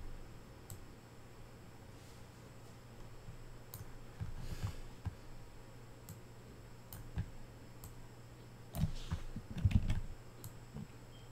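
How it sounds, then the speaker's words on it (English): Soft, irregular keyboard typing, light clicks scattered over a low steady hum, with a slightly busier flurry toward the end. "Hopefully my typing on the keyboard isn't too loud."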